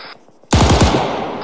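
A close, loud machine gun fires a rapid burst of about half a dozen rounds, the shots ringing out and echoing away after a brief quieter moment.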